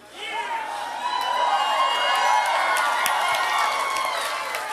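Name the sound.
election night crowd cheering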